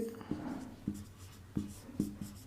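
Chalk strokes writing a decimal maths answer on a classroom board, a series of short scratchy taps and scrapes with brief pauses between, fairly close and alone.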